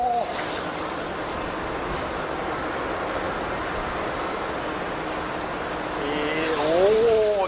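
Heavy downpour on a motorcycle tour, water pouring off like a waterfall: a constant loud rushing wash throughout, with a voice rising briefly near the end.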